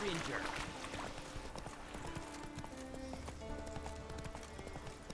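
Horse hooves clip-clop steadily at a walking pace in The Witcher 3, with faint game ambience around them and voices talking over the hoofbeats.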